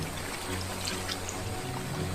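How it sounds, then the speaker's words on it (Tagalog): Water of a clear stream flowing toward a large river, a steady broadband rushing wash with no pauses, moderately close and unbroken, with no voices heard. "ito po ay isang agos papunta po sa malaking malaking ilog no."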